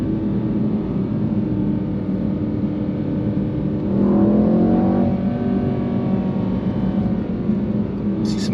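A Mercedes E63 AMG-S V8 pulls in second gear in manual mode around 4,500 rpm, its steady loud engine drone heard from inside the car and rising slightly in pitch partway through.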